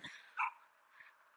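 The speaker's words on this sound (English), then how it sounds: "Look at this dog." A dog encountered on a walk gives a short bark followed by a softer yip, close but fairly quiet, with no one talking.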